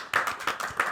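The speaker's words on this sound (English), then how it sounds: "let's have some applause for the cookie makers" Several people clap hands at a committee meeting, a short burst of applause with three distinct, evenly spaced peaks of claps in about a second.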